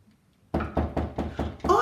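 Five loud, evenly spaced knocks on a door, close by, in quick steady rhythm after a short quiet start, with a brighter sound creeping in at the very end.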